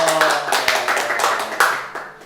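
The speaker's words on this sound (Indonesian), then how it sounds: "Tepuk tangan dong." Children clapping their hands together during an online Sunday school service, a burst of uneven, close clapping that tapers off near the end.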